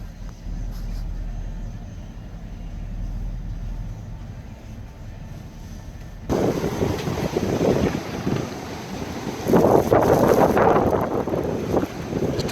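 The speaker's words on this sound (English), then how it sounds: "if you can hear, this is the wind still blowing." Strong gusty wind blowing across the Hatteras Island shore after Hurricane Florence, a steady low roar that surges much louder halfway through with heavy buffeting against the microphone, whipping sand along.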